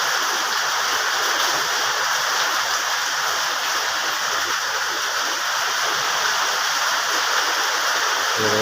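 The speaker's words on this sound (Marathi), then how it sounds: "बघा आता पाऊस चालू झालो" Heavy rain falls in a steady, loud, dense hiss throughout, with no breaks, outdoors at a house under construction in a Konkan village.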